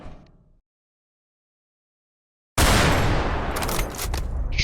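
Sniper gunfire in the Roblox game Jujutsu Shenanigans, a sudden loud blast after near silence followed by a dense rattling barrage of shots and impacts.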